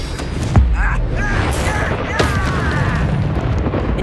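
The Expelliarmus disarming spell cast in the wizarding game Hogwarts Legacy: a sharp, booming magical blast early on, then a second burst over a constant rumbling battle backdrop, with a voice speaking beneath.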